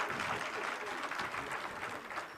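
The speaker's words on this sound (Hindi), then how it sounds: "एक बार अच्छी सी ताली बजाइए तो मजा आए" Audience applause at a poetry gathering for a politician's birth anniversary, a continuous, even wash of many hands clapping, soft and somewhat distant, with faint crowd murmur underneath.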